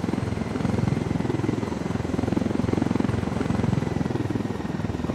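Rapid, even rotor chopping from a helicopter in Ghost Recon Wildlands pulses steadily and loudly for several seconds, a close, continuous thudding beat with slight swells in intensity.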